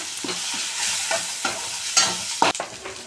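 Freshly pounded paste for coriander rice fries in a pan, crackling steadily while a spoon stirs and scrapes in several uneven strokes, ending in a sharper clatter.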